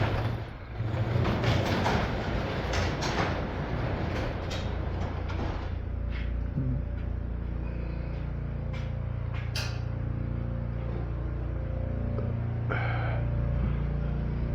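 A scored gas-to-oil engine running on regular gasoline, producing a steady low mechanical rumble and hum with occasional knocks and rattles, fairly close and without talk.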